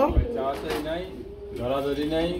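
Danish Beauty and Lahori pigeons coo in soft, repeated throaty bursts close by, with a voice talking over them through most of the stretch.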